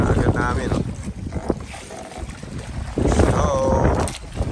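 A wind-powered sailboat with no engine cuts through the water off Boracay, with rushing water and gusty wind buffeting the microphone while people talk and shout over it.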